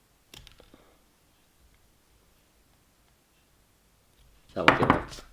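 Plastic model kit parts for a TT-02 RC car are snipped off the sprue, a couple of small sharp clicks at the start, then quiet before a louder handling rustle at the end.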